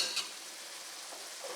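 Mushrooms frying in a pan over high heat make a steady, moderately loud sizzle throughout, with brief stirring scrapes near the start and again toward the end.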